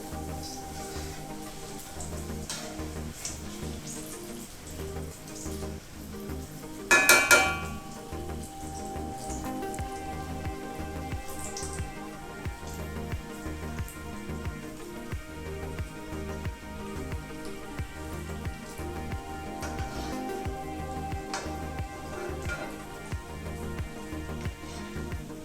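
Banana fritters fry in oil over medium heat, giving a steady, faint crackling sizzle like light rain throughout, with one brief louder clatter early on.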